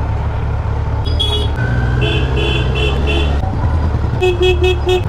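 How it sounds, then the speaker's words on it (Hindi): Short car horns toot repeatedly over loud, steady traffic engine noise on an evening ride in Mussoorie, heard from a Kawasaki Z900 motorcycle, a cluster of quick beeps near the end. "हॉर्न का प्रयोग भी करना पड़ता है"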